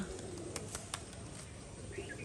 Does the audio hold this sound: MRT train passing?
no